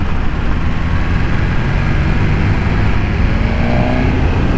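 A 2020 BMW S1000RR motorcycle is ridden hard, its exhaust and engine making a loud, continuous roar mixed with heavy wind rush, heard from on the bike with no voices.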